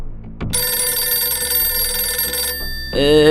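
A telephone rings in a TV call-in show studio, a sustained electronic ring tone holding steady for about two seconds, then breaking off into a short new tone burst at the end.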